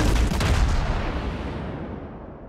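Heavy booming gunfire from the large naval guns of the cruiser Atago in a naval warfare game, a loud burst at the start that decays into a fading rumble.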